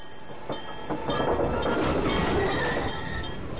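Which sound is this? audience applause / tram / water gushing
tram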